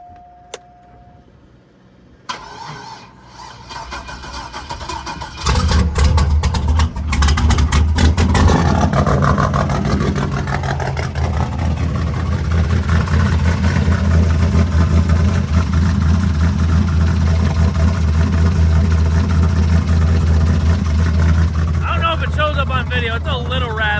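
A car engine cranks and catches, then settles into a loud, steady idle with a slight rattle, following a quieter stretch of mechanical noise and a short buzz at the start.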